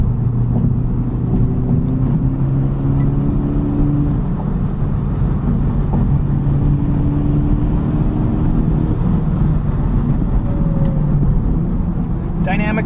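Cabin of a 2023 Honda Civic on the move, a loud steady engine hum and road roar with rising and falling engine tones, under a constant stretch of talking.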